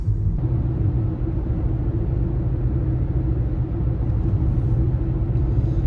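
A car cruising along a state highway, heard as a steady low road rumble and engine drone, even and continuous from start to finish with no talk.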